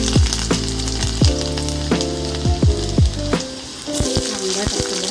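Garlic sizzles in hot oil in a wok, a loud steady crackling fry close up, with clinks of a spatula against the metal and a faint voice underneath at times.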